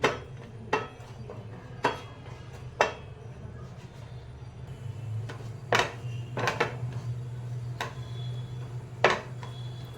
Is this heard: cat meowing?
no